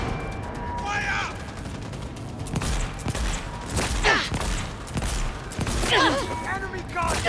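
Sustained video game gunfire in Cyberpunk 2077, a dense rattling fusillade of rapid shots and impacts, loud and close throughout, mixed with brief shouted voices.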